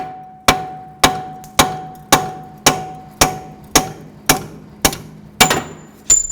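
Hammer blows striking the bolts of a front strut bracket on a 2010-2017 Chevrolet Equinox, nine sharp metallic taps at a steady, even rhythm, close and loud, each ringing briefly before the next.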